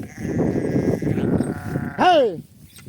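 A sheep from a village flock lets out a single loud, wavering bleat close by near the end, after someone talks over faint background noise.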